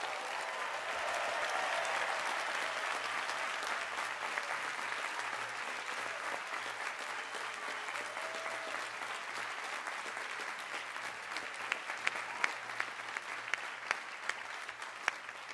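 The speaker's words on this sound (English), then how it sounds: "And one final applause for all our doctorates in MABR" A large commencement crowd at a business school graduation applauds for doctoral graduates, sustained dense clapping that holds steady and loud for the whole stretch, with a few sharper claps near the end.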